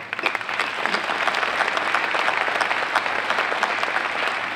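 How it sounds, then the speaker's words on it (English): A large audience at an education event applauds, a full, continuous roar of clapping at steady volume from start to finish without any speech. "all of you deserve a round of applause for that"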